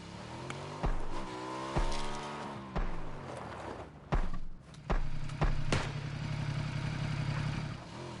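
A motorbike in the battle royale game PUBG revs and drives, its engine droning with repeated throttle bursts and gear-shift surges, loud and close, with no talking over it.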